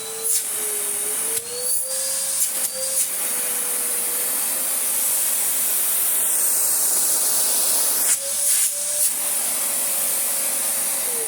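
A Karcher VC3600 commercial vacuum cleaner runs with its hose attached, a loud steady whine that holds throughout, its pitch wavering and jumping slightly as the suction changes.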